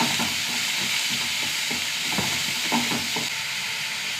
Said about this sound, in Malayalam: സവാള ചെറുതായിട്ട് വാടി വെക്കാം.